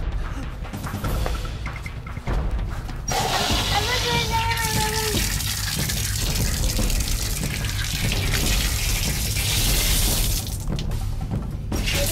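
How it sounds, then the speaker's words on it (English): Water from a cup is dumped out, a brief gushing splash amid a playful indoor scene, with loud children's voices before and after. "Go dump a cup of water on him again."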